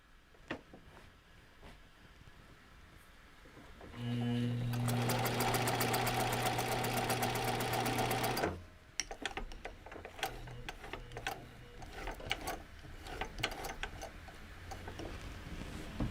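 A sewing machine runs a continuous burst of stitching for about four seconds, loud and close with a rapid mechanical whir, framed by quieter handling clicks and rustles.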